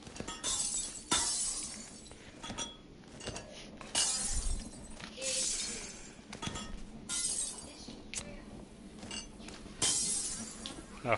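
Repeated glass smashing in the VR game Arizona Sunshine, a series of sharp, close shattering crashes spaced a second or two apart, with breaking bits clinking in between and no talking.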